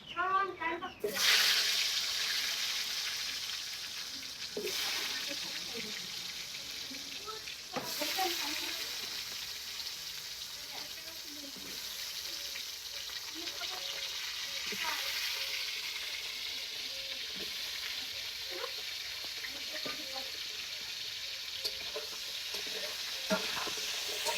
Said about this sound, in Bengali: এখন আমি তেলে ভেজে নেব তেল গরম করতে দিয়ে দিচ্ছি এই যে আলু দিয়ে দিচ্ছি এখন